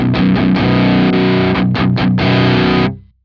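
Electric guitar through a Joyo Argos drive pedal, loud distorted chords strummed several times in a choppy rhythm, then a sustained chord that fades out.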